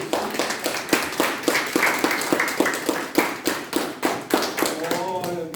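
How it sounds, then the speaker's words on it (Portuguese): Congregation in a church clapping loudly in a steady rhythmic beat, strong evenly spaced claps, with a voice rising faintly near the end. "As palmas bem fortes."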